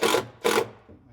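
A power drill drives a screw into a furniture cabinet while installing a 360-degree TV lift mechanism, two loud whirring bursts with a short pause between, then a quieter tail.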